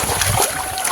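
A splash as someone jumps into water, a close, loud burst of sloshing and spray filling the brief moment.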